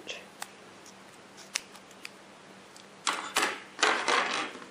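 Scissors snip through the trimmed ends of a korker hair bow ribbon, a few sharp cuts spaced out, then a quick burst of louder, closer clipping near the end.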